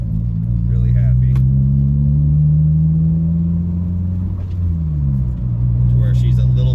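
A boosted Honda EG Civic engine runs at a high idle, a loud, steady low rumble close by that dips briefly and settles, with faint voices in the background.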